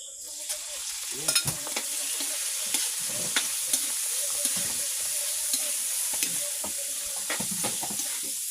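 Sea shells sautéed in a pan give a steady sizzle with frequent clinks and scraping as they are stirred, close and fairly loud, with no talking.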